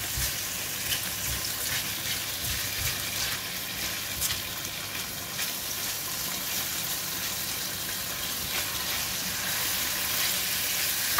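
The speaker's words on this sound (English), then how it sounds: "Put in the bacon piece by piece. The bacon is super thin, so it cooks pretty fast." Super-thin bacon strips fry in an oiled pan, giving a soft, steady sizzle that runs without a break and grows slightly toward the end, with no one talking.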